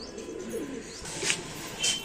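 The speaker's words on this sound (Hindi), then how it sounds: "ये कबूतर हैं फहद भाई के ब्रीडर" Shahjahanpuri breeder pigeons in a loft give soft, faint coos with a couple of brighter chirps standing out over quiet background noise.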